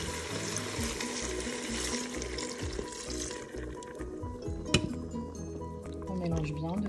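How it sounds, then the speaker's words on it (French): Broth is poured into a Cookeo pressure cooker as a steady close stream of liquid that thins out partway through, with a single clink, while someone talks. "On ajoute notre bouillon."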